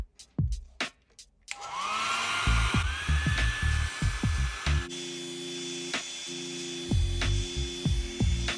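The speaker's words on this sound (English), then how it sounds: "Use a heat gun or hair dryer to heat up the surface of the back panel." A steady, close whooshing roar of a hair dryer or heat gun heating the back panel of a Google Pixel 3 runs continuously, with clicks and handling knocks around it.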